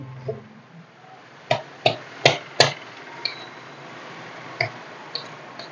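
A knife chops off the side fins of a fish being cleaned, with four sharp knocks in quick succession followed by a few lighter taps after a pause, close and with no talking.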